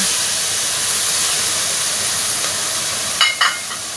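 Light soy sauce hits a sizzling stir-fry of sweet preserved radish and egg, a steady close hiss of frying with a couple of sharper crackling bursts near the end.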